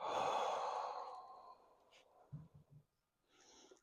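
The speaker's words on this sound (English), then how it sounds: "I'll inhale through the nose, exhale through the mouth" Nasal inhale and mouth exhale by a man setting up for a bench press: a long, loud breathy exhale opens, trailing off into a few short sniffing inhales and a faint breath at the end.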